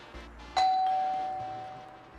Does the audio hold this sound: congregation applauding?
no